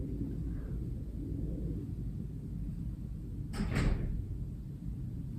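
A door in a home opens or closes with a quick double clack and short slide, faint and brief against a quiet room hiss.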